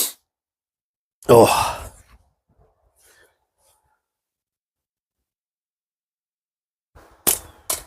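Omega Slings slingshot fitted with Electric White .5 bands fires at a can: one sharp, loud snap near the start, then quiet, with a brief murmured word and two more short bursts of sound at the end.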